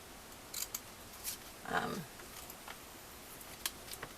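Scissors cutting strips from grey cardstock for a Christmas papercraft project. Several quiet, crisp snips are spread through the clip, with one longer slicing cut in the middle.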